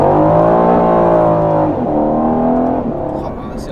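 Aston Martin Vantage F1 Edition on a race track, its engine a loud, sustained drone with steady harmonics that dip briefly as it shifts or lifts, then resumes and fades slightly toward the end.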